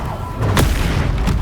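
Bombarda blast spell from Hogwarts Legacy lands as a single booming burst, fairly close and loud, over a low rumbling game background.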